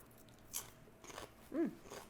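Three short, crisp crunches of a crispy mushroom taco being bitten, close and quiet, spaced about half a second apart.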